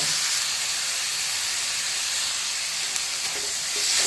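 Tomatoes and ginger sizzling in a pan with golden-brown fried onions: a loud, continuous frying hiss held steadily throughout, with a faint tap or two of stirring near the end and no talk.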